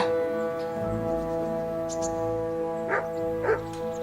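A dog in the medieval role-playing game Kingdom Come: Deliverance gives a few soft yips and short barks near a smithy, faint over a sustained musical drone.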